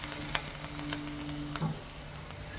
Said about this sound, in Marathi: हे सगळं मोठ्या गॅसवरतीच भाजायचं आहे